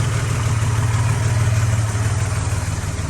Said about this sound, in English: You got a 265 Hemi.